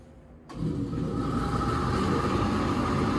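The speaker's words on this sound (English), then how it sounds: "So I'm going to turn on the vent." A ventilation fan at a soldering bench switches on abruptly and settles into a steady, loud whooshing hum that continues to the end.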